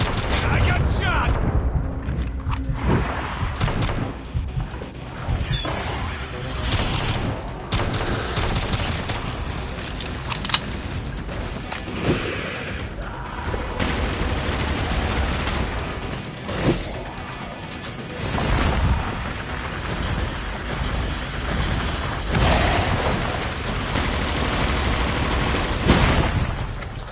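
Dense bursts of automatic gunfire and explosive crashes in Call of Duty: Mobile during an Abomination boss fight, loud and nearly continuous, with in-game voice lines heard among the shots.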